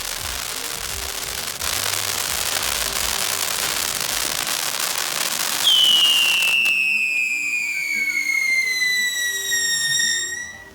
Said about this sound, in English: my favorite firework is the Spartan Scream, aka Tiger's Roar.